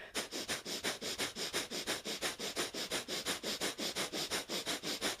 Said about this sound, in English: That's our panting breath through the nose.